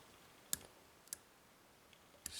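Faint, sharp clicks come from pins being picked in a CISA AP3 lock, with about four isolated ticks spaced irregularly over quiet background hiss.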